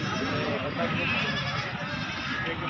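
Goats bleating at a crowded goat market, the animal cries mixed into a dense noisy background with people talking over them.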